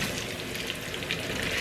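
Chopped potatoes frying in a pan: a continuous, bright sizzle and crackle of hot oil, steady and fairly close, with no other sound over it.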